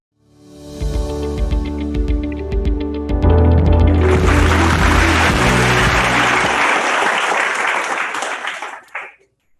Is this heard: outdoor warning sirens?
no